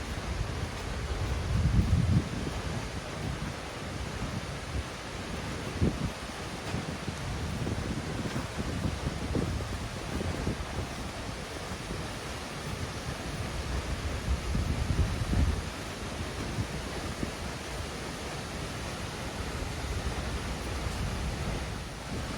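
Seljalandsfoss, a waterfall in Iceland plunging over steep cliffs, gives a steady, broad rushing roar with deep low rumble and occasional swells, continuous and close throughout with no talking.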